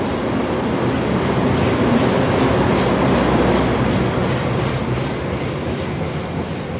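Loud, steady rumble of a Gajayana passenger train running on rails, a continuous roar with faint rhythmic clickety-clack of wheels over rail joints throughout.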